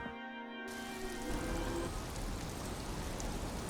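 Steady rain falls in the video game Disco Elysium, a dense even hiss of drops that swells after a brief musical tone fades, with no voices.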